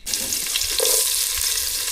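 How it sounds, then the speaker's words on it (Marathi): Onion and garlic fry in hot oil as a tempering for a chicken dish, a close, steady crackling sizzle with faint stirring scrapes, starting abruptly and continuing without talk. "फोडणीमध्ये कांदा आणि लसूण दिलेली आहे फोडणीसाठी"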